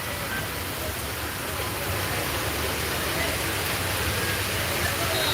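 Heavy rain falls steadily in Sylhet and Bishwanath, a dense, even wash of drops on surfaces that stays constant throughout, close and with no voices heard.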